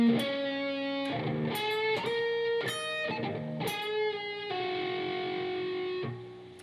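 A distorted electric guitar plays part 7 of a blues-rock riff at a slow tempo, with clear picked notes and chords in a halting rhythm, ending on a held note, with no talking.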